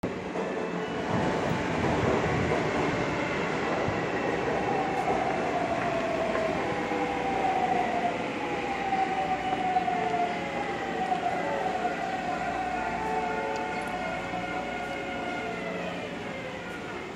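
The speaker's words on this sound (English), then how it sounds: "Here comes the MRT train." An MRT train passes by outdoors, a steady loud rumble and rail screech with sliding tonal whines lasting the whole stretch, blended with nearby traffic noise.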